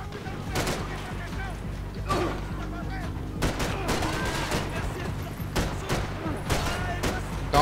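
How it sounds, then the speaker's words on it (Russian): Gunfire in the video game Max Payne 3 during a favela fight comes in repeated loud bursts of rapid shots separated by brief lulls over a rumbling game backdrop, with voices speaking in between. "Два выстрела потребовалось, чтобы убить их"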